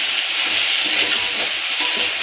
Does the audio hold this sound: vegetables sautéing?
yes